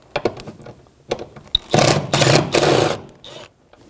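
A ratchet wrench works on a 10mm bolt under the rear seat side of a 2013-2017 Honda Accord, giving a few quick clicks followed by a couple of longer, loud, close buzzing ratchet runs, with no voices.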